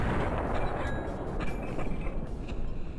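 Grenade explosions in CS:GO, rendered as dense, continuous rumbling blasts with a few sharper cracks layered on top, steady and fairly loud for about three seconds.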